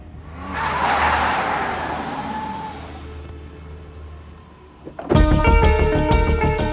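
A car brakes hard to a stop in a tense street getaway, tires skidding loudly for several seconds before a sharp shift to a dense, bright burst of noise.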